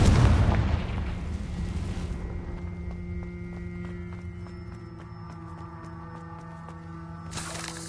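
Confringo, the explosive spell in Hogwarts Legacy, goes off as one loud, close burst at the start and fades into a long rumbling tail over steady game ambience, with a fresh swell of noise near the end.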